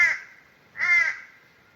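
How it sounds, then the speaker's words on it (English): A crow high in an African tulip tree gives two loud, harsh caws about a second apart, clear against a quiet background. "You're very noisy, Mr. Crow, up there high up in the African tulip tree."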